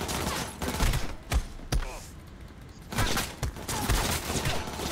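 Gunfire in Cyberpunk 2077, rapid bursts of loud close shots forming thick volleys with short gaps, heavy thuds underneath, and brief voices mixed in.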